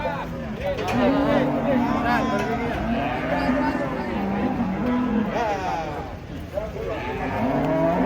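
Giant cattle being unloaded from a truck give loud, deep moos, repeated calls rising and falling across the whole stretch, with people talking and calling nearby.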